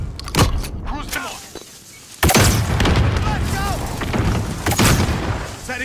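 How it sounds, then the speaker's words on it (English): A cruise missile strike in the video game Modern Warfare, a loud sudden boom erupting midway into sustained rumbling blasts, with sharp gunfire cracks and a player's excited voice talking over the action. "Cruise missile!"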